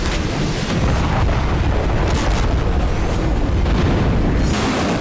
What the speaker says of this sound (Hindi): ये तवेर में धमाके की तस्वीरें।